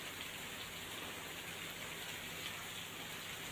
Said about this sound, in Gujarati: ધોધમાર વરસાદ પડી જતા શહેરના રસ્તાઓ પાણી થયા